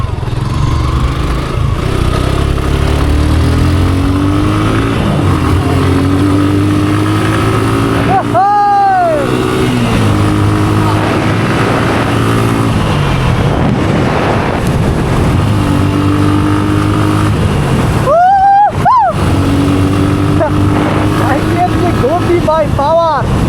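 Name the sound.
motorcycle riding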